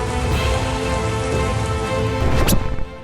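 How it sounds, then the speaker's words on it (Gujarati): Heavy monsoon downpour in Patan district, Gujarat, a dense constant roar of rain striking surfaces, loud and unbroken, with a brief sharper splash near the end. "સરસ્વતી તાલુકામાં ધોધમાર વરસાદ થયો"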